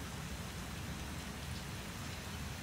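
Steady, even rain hisses continuously without a break, a dense wash of falling water with no voices.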